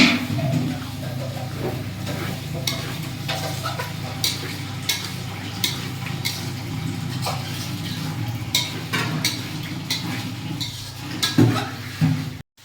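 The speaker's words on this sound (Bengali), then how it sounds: "এখন কষাবো, খাসির মাংসগুলো কষাবো, দেখছেন।" Mutton pieces sauté in a pot for kacchi biryani, giving a steady close sizzle with repeated scraping stirs and occasional clanks throughout.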